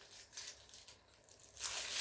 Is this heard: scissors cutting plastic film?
yes